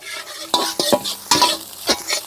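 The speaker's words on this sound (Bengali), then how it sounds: "ডিমটাকে ভালো করে ঝুরঝুরে করে ভাজা ভাজা করে নেব।" Beaten egg fries in mustard oil in a wok while a spatula stirs and breaks it up, giving rhythmic scraping strokes over a steady sizzle.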